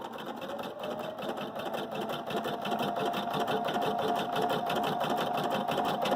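A Viking Designer Brilliance 80 embroidery machine stitches steadily, with a rapid, even mechanical rattle that stays close and unbroken throughout.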